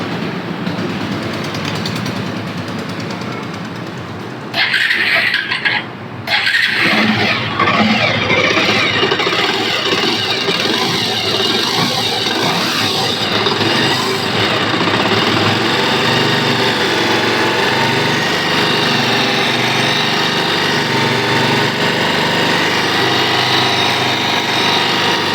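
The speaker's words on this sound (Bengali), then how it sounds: "তো আমি বাইকটা স্টার্ট করতেছি এবং ইঞ্জিনের" A motorbike engine with a modified exhaust sound starts after a few seconds and settles into a steady, loud, continuous idle with a buzzing high-pitched tone.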